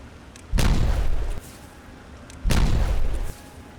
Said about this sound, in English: I'm going to detonate these.